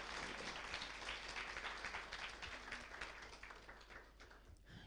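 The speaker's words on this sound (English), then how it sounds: "Can we please give a round of applause?" A crowd claps together in a steady wash of applause, dense and continuous, fading slightly toward the end.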